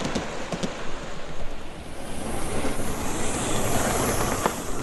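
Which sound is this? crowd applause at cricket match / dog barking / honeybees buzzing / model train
model train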